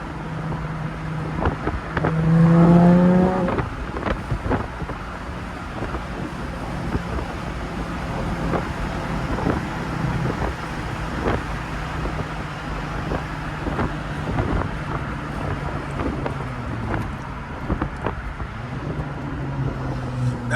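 A Jaguar F-Type convertible with the AJ V6 engine and manual gearbox drives along, its steady engine drone and road noise punctuated by a few sharp exhaust pops, with a louder rev swell early on.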